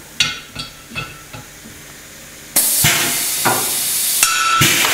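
A 3/8 Monobolt rivet is set with a pneumatic rivet tool: a few short clicks and taps, then a loud sustained hiss of air with sharp snaps as the stem breaks, close and without talk.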